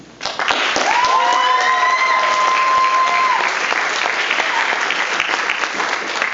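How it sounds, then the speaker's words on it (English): Audience applause at a military change-of-command ceremony swells quickly into steady, dense clapping with some cheering, while a whistle or shout rises over the crowd. "I think we should all give a huge round of applause for CSM and BC"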